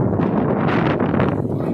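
A strong outdoor wind blows under dark clouds before rain, buffeting the microphone in loud, continuous gusts with a low roar.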